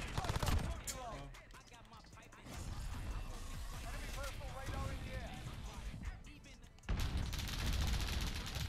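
Rapid gunfire bursts crackle through a Modern Warfare match, with a dense volley at the start and another heavy burst near the end while a voice talks excitedly over the game.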